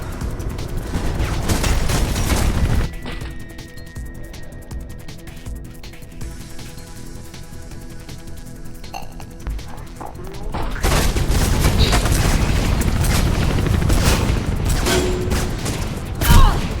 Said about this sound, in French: il me tire dessus depuis partout